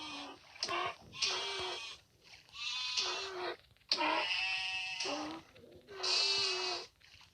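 Several loud, wavering sheep bleats in a row from the video game Mini World, each drawn out and nasal, with short pauses between them and little else around.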